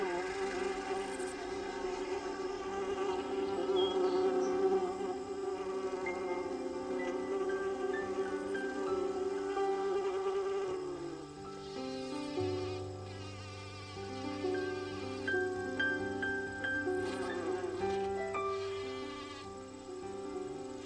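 Worker honeybees buzzing outside the hive, a steady high drone of wings with overlapping tones that shift in pitch as bees move around, continuous and fairly close, with no voices.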